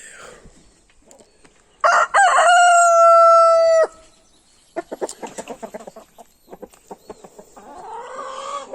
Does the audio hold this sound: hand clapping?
no